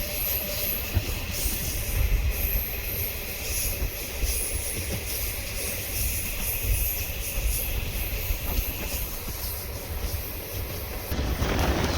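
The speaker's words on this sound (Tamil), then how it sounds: "2661 Pudugai super fast express Chennai Egmore to Sengottai" A superfast express train from Chennai Egmore to Sengottai rumbles past near the Ulundurpet toll plaza on the Trichy–Chennai highway. Loud, steady wheel clatter and wind roar continue throughout and surge again at the end.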